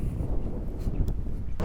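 Wind gusting across a golf course, heavy low rumbling buffeting on the microphone that fills the whole moment, with brief sharper rustles near the end.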